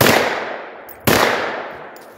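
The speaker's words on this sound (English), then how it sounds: "It's shooting left." A Turkish MKE AP5, an MP5 clone, fired at a target outdoors, two loud sharp reports about a second apart, each trailing off in a long echoing decay.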